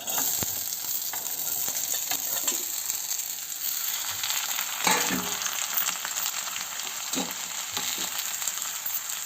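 Avarekai (field beans) tipped into a hot, sizzling oil tempering in a pan, giving a steady loud frying hiss with a few sharp clatters and stirring scrapes throughout.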